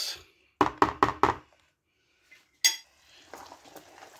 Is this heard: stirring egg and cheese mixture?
yes